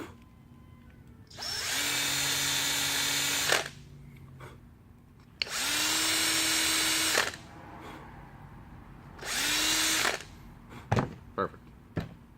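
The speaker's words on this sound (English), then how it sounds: "I'm just going to use my, my drill and just basically go sideways on it." A power drill runs sideways across a plastic Deathtrooper armor thigh piece to cut a groove, three loud sustained whirring bursts of about two seconds each separated by pauses, followed by a few sharp clicks and taps.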